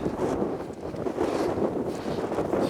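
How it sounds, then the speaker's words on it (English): Strong wind buffets the microphone on a mountain path on Mount Snowdon, a loud, steady roaring rumble with gusty swells and no clear talk. "I'm not even sure you can hear me with this wind."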